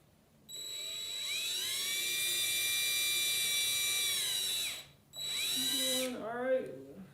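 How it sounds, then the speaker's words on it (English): A cordless power drill drills into the hole of a homemade candy machine, a loud high whine held for about four seconds, then a short second burst that bogs down and winds off, with a voice briefly heard at the end. "we're going to try to drill right in that hole a little bit."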